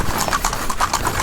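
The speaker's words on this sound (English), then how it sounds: "We're riding a cart pulled by a horse." Hooves of a horse pulling a cart in Luxor, Egypt clip-clop in a quick steady rhythm, close and clear over road and wheel noise.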